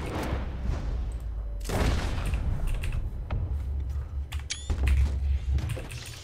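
Loud close gunshots in Red Dead Redemption II, two heavy booming blasts a couple of seconds apart with clicks and mechanical rattles between them.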